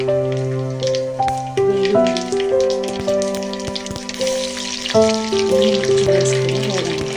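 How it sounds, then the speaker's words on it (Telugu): Mustard seeds pop and crackle in hot oil for a gongura pickle tempering, a lively frying sizzle heard beneath loud melodic music. "నూనెలో ముందుగా ఆవాలు"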